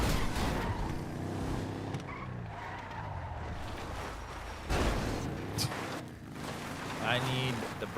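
A car with badly worn brakes drives and skids, engine noise broken by sharp tire squeals and sliding bursts near the middle and end, with voices heard over it.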